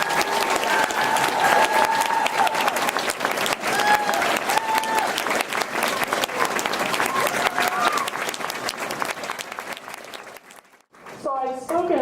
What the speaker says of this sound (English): If you guys will please give them a round of applause.